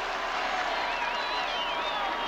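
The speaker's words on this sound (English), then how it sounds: "They'd like the crowd to quiet down just a little bit in that end zone." Football stadium crowd in the end zone at a Virginia at North Carolina college game, a steady dense roar of many voices with a whistle-like tone rising through it.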